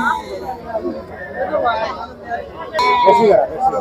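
Local Bangladeshi sheep bleat amid a busy livestock market, short calls rising over steady crowd chatter and nearby talking.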